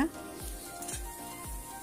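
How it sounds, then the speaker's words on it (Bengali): Spice paste with coconut sizzles softly in a pan while being stirred, a low steady hiss with three regular scraping strokes of the spoon, quiet and close. "এখন নারকেল সমেত মশলাটা সুন্দর করে নাড়াচাড়া করছি একটু ভাজা হবে"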